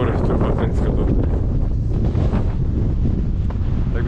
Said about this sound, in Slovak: Už sme vlastne na tom hlavnom hrebení, strašne tu fúka.